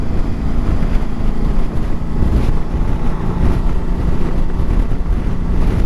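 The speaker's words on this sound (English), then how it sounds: "It's windy though, a bit of wind out." Strong outdoor wind buffets the microphone in a loud, steady rush with uneven gusty surges throughout.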